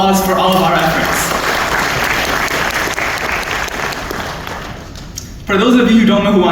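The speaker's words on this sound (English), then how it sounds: "Can you please get another round of applause for all of our efforts?" Audience applause fills a graduation ceremony hall, a dense steady wash of clapping that carries for several seconds before a speaker's amplified voice returns near the end.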